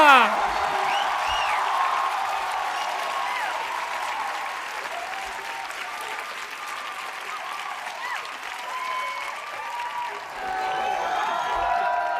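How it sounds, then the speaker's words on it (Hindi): Studio audience applause greeting actors Divyendu Sharma and Prateek Gandhi on a Hindi talk show, a steady, dense wash of clapping with some cheering that holds for the full stretch without letting up. "जोरदार तालियों के साथ स्वागत करिए कमाल के एक्टर दिव्येंदु शर्मा और प्रतीक गांधी का"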